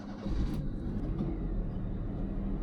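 Small Japanese rental van engine running after being started, a low steady rumble with a faint click near the start, heard from inside the vehicle.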